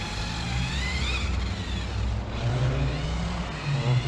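A Volkswagen GTI drives past with a steady, close engine drone and broadband road and tyre noise, the sound fairly loud and constant with a slight swell in the middle of the pass.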